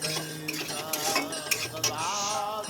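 Vegetarian ghugni being sautéed in a pan, a spoon scraping and clinking against the metal over a faint sizzle, close up, with a wavering tonal hum in the background.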